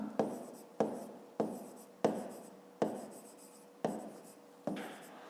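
Pen or chalk writing during a math exercise, seven distinct strokes spaced about every half to one second, each a sharp tap fading into a short scratchy drag, close and fairly quiet.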